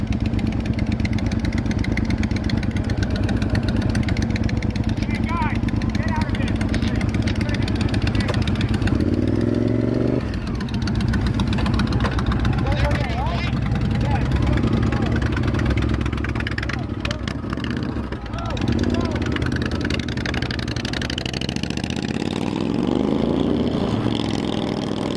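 Motorcycle engine idling steadily up close for the whole stretch, a continuous low rumble with slight dips, while a person talks over it.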